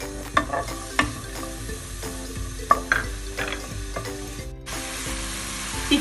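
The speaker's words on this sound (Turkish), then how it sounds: "İçerisine bir baş soğanımı küçük küçük doğradım. ilave ediyorum." Finely chopped onion sizzles in olive oil in a pot, with a steady frying hiss and occasional sharp clicks from stirring, no voices.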